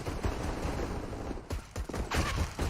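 Rapid Glock pistol fire in a Counter-Strike match on Inferno at a pro tournament, a quick burst of sharp close shots over a busy game and crowd backdrop.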